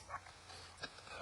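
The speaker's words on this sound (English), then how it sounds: "Here's my dog going crazy about the other dogs barking at him." A dog gets worked up at other dogs barking at it during a walk, with a few short yips and whimpers spaced irregularly over outdoor background noise.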